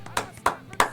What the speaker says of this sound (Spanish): Un aplauso para Nico Hülkenberg.